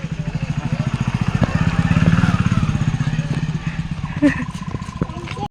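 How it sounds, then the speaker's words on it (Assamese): A motorcycle being ridden, its engine putting out a steady rapid pulsing thrum that stays close and fairly loud throughout, with a brief clatter near the end and no talking over it. "আৰু ইয়াত আহি কেনে কৌশিকে এতিয়া বাইক চলোৱাত লাগিলে"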